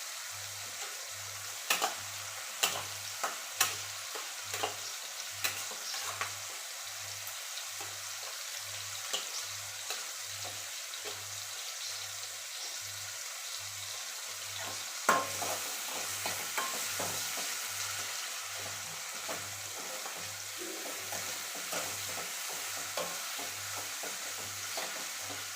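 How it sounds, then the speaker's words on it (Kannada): Chicken sukka frying in a pan, a steady close sizzle with a regular thumping stir and occasional scraping clicks throughout, no voices. "ಈ ಥರ ಇದನ್ನು ಫ್ರೈ ಮಾಡಬೇಕು. ಸ್ವಲ್ಪ ಫ್ರೈ ಆಗುತ್ತಿದೆ."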